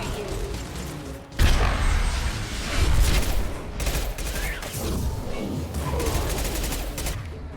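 Heavy gunfire in Mass Effect 2 Legendary Edition, loud overlapping bursts of shots with mechanical clatter that keep up almost without pause over a noisy battlefield.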